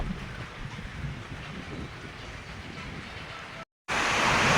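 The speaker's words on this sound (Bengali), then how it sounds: "মারাত্মক রকম ঝড় শুরু হয়ে গেছে। এই যে কিচ্ছু দেখা যাইতেছে না, প্রচুর পরিমাণে বৃষ্টি হইতেছে।" Heavy, steady rain pours down in a dense broadband roar with wind, continuous and close, briefly cutting out near the end before resuming louder.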